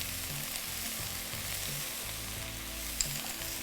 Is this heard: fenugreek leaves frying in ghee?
yes